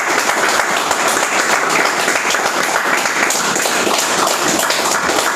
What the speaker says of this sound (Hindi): तो एक माई रिचार्ज आयुर्वेदा के लिए जबरदस्त ताली हो जाए।